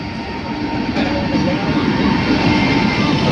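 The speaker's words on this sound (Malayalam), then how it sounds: "അതിന് ശേഷം നമ്മുടെ ഇൻ്റർസിറ്റി വന്നിരിക്കുന്നു." The LHB Thiruvananthapuram–Guruvayur intercity express rolls past close and loud, a steady heavy rumble of coaches on rails with faint clatter, continuous for the whole stretch.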